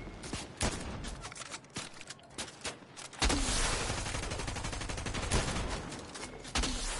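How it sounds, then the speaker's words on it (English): Gunfire in a multiplayer battle-royale style video game crackles in repeated bursts of rapid shots and heavy sustained fusillades, loud and continuous with no talking. "who's shooting me in the back?"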